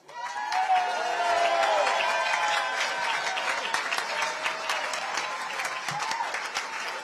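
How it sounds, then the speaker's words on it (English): A crowd at a Republican club's Lincoln dinner in Queens Village bursts into sustained applause, dense and steady from start to finish, with some scattered cheering mixed in. "I want to hear the loudest applause from all of you"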